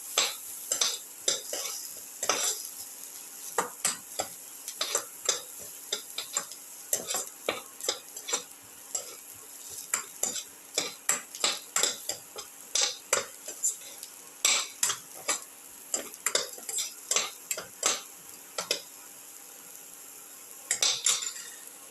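Garlic and shallots sautéing in a pan with a faint sizzle, while a utensil scrapes and clinks against the pan in quick, repeated strokes throughout.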